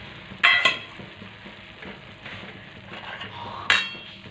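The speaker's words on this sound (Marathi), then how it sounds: "आपल्याला असं छान प्रकारे विक्सच्या मदतीने हे बेसन यामध्ये मिक्स करून घ्यायचं आहे." Gram flour is whisked into boiling water in a pot, giving a soft bubbling hiss broken by two sharp metallic clinks of the whisk against the vessel near the start and end.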